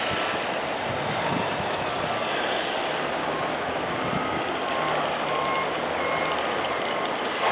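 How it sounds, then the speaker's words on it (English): A water truck reverses on a construction site in Austin, Texas, sending out steady reversing beeps over a broad engine rumble and outdoor noise, fairly distant, with no talking. "That looks like it's a water truck."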